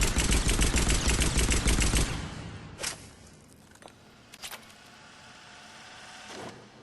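An Eagle pistol in Mass Effect 3 fires from the hip in a rapid burst of loud sharp reports for about two seconds, then a few isolated fainter shots and clacks follow.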